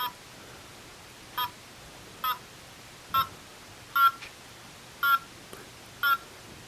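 Short electronic chirps from a chirper kit circuit repeat about once a second, six or seven bright bleeps over a faint hiss, with no voices.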